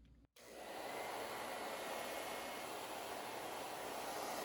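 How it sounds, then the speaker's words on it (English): A hair dryer blows on a watercolor painting to dry it, switching on after a brief click and then roaring in a steady, close, loud whoosh with no talking. "I'm using actually my hair dryer to dry everything here."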